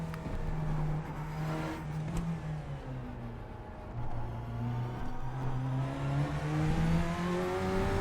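An LMP prototype race car in the video game iRacing, its engine note rising steadily through the gears, heard fairly faint from the cockpit with no talk.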